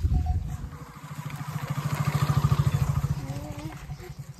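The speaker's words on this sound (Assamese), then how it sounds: "ইফালেদি এখন গাড়ী আহিছে বাইক আহিছে" A motorbike engine running on a road outdoors, its low rhythmic throb swelling and pulsing as it passes close by, under faint voices at the start.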